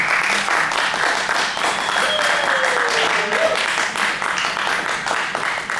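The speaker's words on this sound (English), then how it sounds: "you can give a round of applause for that" A studio audience applauds a guest on a chat show, a full, continuous burst of clapping close and loud throughout, with a faint voice briefly heard underneath.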